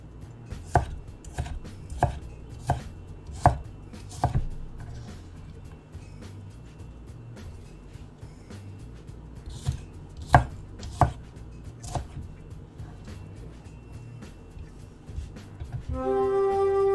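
A knife chops food on a cutting board while bison tacos are prepared, giving sharp, separate thwacks in irregular bursts, with quieter gaps between and a faint clatter at the end.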